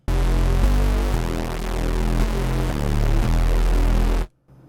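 A thick, buzzing synthesizer bass steps through a short sequence of low notes, loud and sustained, then cuts to near silence at the end.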